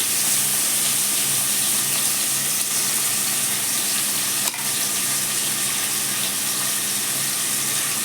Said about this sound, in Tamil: கொஞ்சம் நல்ல வெங்காயம் இந்த பண்ணி எண்ணெயில் வதங்கணும்